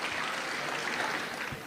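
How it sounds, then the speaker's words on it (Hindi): Warm audience applause at a mushaira poetry gathering in Dubai, welcoming a poet to the stage; dense, continuous clapping from a sizable crowd that holds steady and then begins to taper off near the end. "तो जोरदार तालियों से एक बार रुबीना याज का इस्तकबाल किया जाए"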